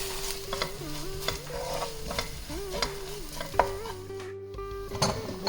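Masala of chili, pepper, cumin and fennel powder sautés on low heat for a mutton boti fry, with soft sizzling, repeated stirring scrapes and a clink of a metal utensil against the pan.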